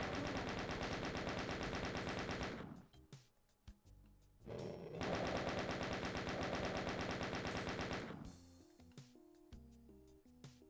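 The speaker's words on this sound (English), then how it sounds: "Good old chain gun for the win." Rapid chain gun fire in Doom II on PC, a dense mechanical rattle in two long bursts separated by a short gap, followed by quieter game effects and beeps.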